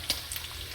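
Eggs scrambling in two pans with butter, giving a soft, steady frying sizzle with a brief brighter crackle near the start.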